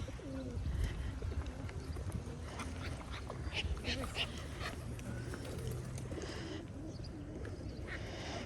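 Pigeons coo softly in a city park among a steady outdoor hum, with people talking nearby and occasional other bird calls.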